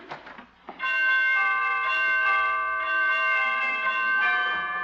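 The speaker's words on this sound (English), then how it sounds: "pretty door chimes" Door chimes ring out loud and clear, a sustained multi-tone bell sounding for several seconds after a brief scuffle of movement at the start.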